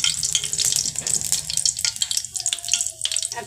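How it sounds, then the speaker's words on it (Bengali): Panch phoron seeds with cumin and black cumin crackle and sizzle in hot oil, a close, busy spitting sound with a few spoon scrapes and clinks in between. "এই সবগুলোকেই আমি তেলের মধ্যে ফোড়ন করে দেবো।"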